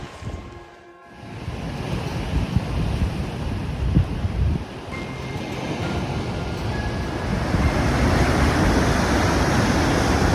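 Ocean surf on the rocky Madeira coast, a dense continuous roar of breaking waves mixed with heavy wind buffeting the microphone, building louder over the final seconds.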